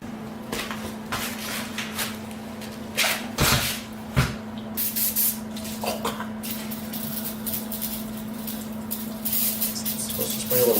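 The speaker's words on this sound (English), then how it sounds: "I usually spray this off because it's got a lot of nasty old oil" Bursts of spray wash old oil off a car part in a workshop, several hissing blasts of varying length over a steady background hum, with metallic clanks between them and no talking.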